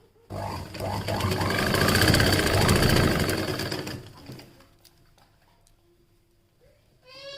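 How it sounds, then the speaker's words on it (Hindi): A sewing machine stitches a folded blouse neckline in a fast, steady mechanical rattle for about four seconds, then stops, leaving quiet handling sounds. "इस तरीके से हम इतने इंच का आगे की तरफ बढ़ा के इसे हम फोल्ड करके सिलाई कर लेते हैं।"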